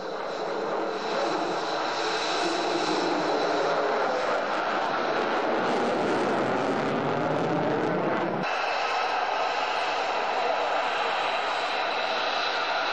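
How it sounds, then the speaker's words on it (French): Military fighter jets fly past during an air parade, a loud, continuous roaring engine rush that swells and shifts in tone, with a sudden change partway through as another aircraft passes. "un défilé aérien composé des derniers avions de chasse multirôles"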